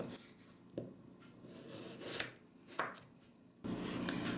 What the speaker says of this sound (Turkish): Patates ve havuçları küp şeklinde doğruyorum.